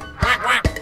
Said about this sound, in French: Le petit canard